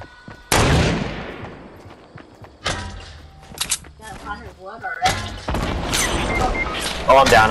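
Several bursts of gunfire from the video game Fortnite go off in uneven clusters, sharp loud cracks with quieter gaps between them and a denser spell of shots toward the end.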